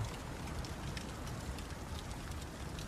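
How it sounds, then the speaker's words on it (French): Steady rain falls outside a chalet in weather mixing rain and snow, a dense, even wash of patter that stays at the same moderate level throughout with no voices. "Il neige, il pleut en même temps."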